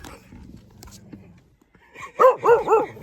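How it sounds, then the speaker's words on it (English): A dog barks three times in quick succession near the end, loud and close, after a stretch of quieter room noise with faint voices murmuring. "Is he barking?"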